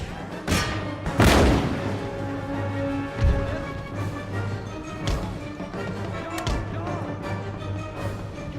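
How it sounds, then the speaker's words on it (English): Cannons firing canister shot at point-blank range in the strategy game Empire: Total War, Swedish campaign; several heavy booms, the loudest near the start, with scattered crackling musket-like reports and battle noise between them. "They're firing canister shot at point blank range."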